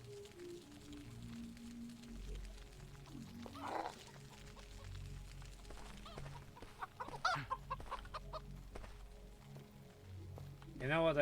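Chickens cluck faintly in the video game Arx Fatalis, with short clucks scattered through the stretch, set under character voices and ambient game sound.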